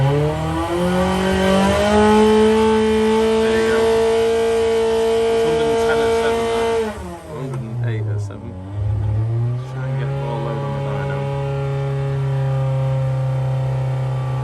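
A Hillman Imp turbo special saloon engine holds high revs under heavy load, exhaust glowing, then drops sharply and wobbles before settling into a steady lower drone, with voices briefly over it.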